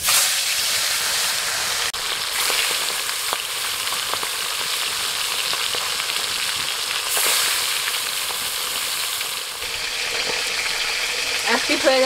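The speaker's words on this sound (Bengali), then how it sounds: "তেল গরম হয়ে গেছে, তেলের মধ্যে এবার মাছগুলো ছেড়ে দিচ্ছি।" Fish pieces sizzle hard after going into hot mustard oil in a wok, a loud continuous crackling hiss that runs throughout with occasional clinks.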